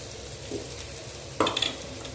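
Chunks of elephant foot yam saute in a pan, giving a soft steady sizzle under low background noise, with a brief clink and stir of a utensil near the end.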